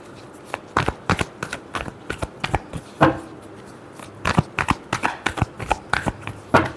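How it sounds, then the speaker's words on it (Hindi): Tarot cards being shuffled by hand, a quick run of crisp riffling slaps and flutters in uneven bursts, close and clear with no talking. "Last shuffle."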